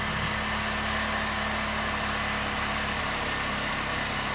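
A Honda Click v1 scooter engine runs steadily after injector cleaning, a constant dense mechanical hum with no variation in level throughout.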